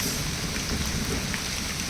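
Heavy monsoon-style downpour in Konkan, a steady dense hiss of rain drumming on surfaces, loud and continuous with no voices.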